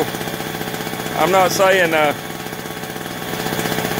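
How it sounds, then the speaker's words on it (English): A Harbor Freight Tailgator generator engine runs steadily with a pulsing, mid-pitched drone throughout, while someone talks briefly over it. "it's a good running engine"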